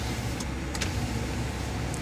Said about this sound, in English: The electric rear sliding window.